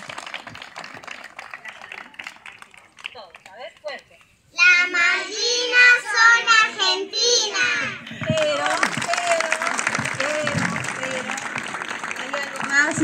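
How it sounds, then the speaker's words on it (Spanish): Audience applause for second grade students at a Malvinas heroes commemoration in Capilla del Monte, Córdoba, Argentina, loud sustained clapping that follows children's voices and a speaker, with chatter mixed in. "Un fuerte aplauso para los alumnos de segundo grado."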